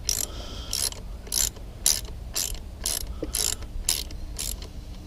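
Repeated ratcheting clicks from tightening the screws on a Mercury 60hp outboard fuel pump, about ten short bursts in a steady rhythm, close and fairly loud with no talk.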